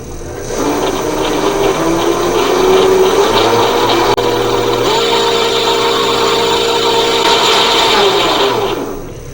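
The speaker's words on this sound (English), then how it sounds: "I've got some 3/4 inch stock, and I'm going to face it off" A lathe faces off a length of 3/4 inch metal stock, a steady mechanical whir and hum with a scraping cutting tone that holds close and loud for about nine seconds before winding down.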